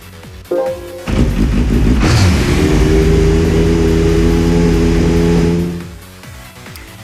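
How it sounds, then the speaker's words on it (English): Nissan GT-R R35 touring car engine in Gran Turismo 5, starting with a sharp rev and then holding a loud, sustained high-revving roar for several seconds before it fades out. "next is the Nissan GTR R35 touring car"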